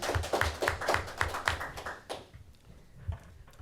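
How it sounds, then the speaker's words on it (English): A small audience at a town conservation commission meeting claps in a brief burst of sharp, close hand claps that thin out and fade after about two seconds, with no talking over it. "I applaud you"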